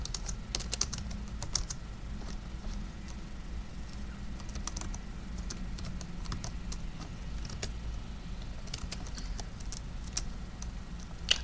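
Typing on a computer keyboard, with quick bursts of close key clicks and pauses between them over a low steady background hum, and no talking.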